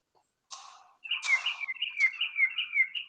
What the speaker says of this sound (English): Only bird will make the sound.